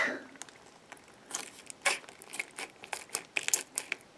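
Close, crinkly snipping and squelching sounds come in quick irregular bursts as scissors cut through a soft, squishy snapper fish toy.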